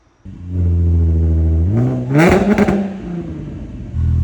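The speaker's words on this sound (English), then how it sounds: "I love being able to hear the whine and the supercharged" Supercharged V6 in a Jaguar XF with a new exhaust, idling close by and then blipped into a sharp rev with rising whine before settling back to a steady idle.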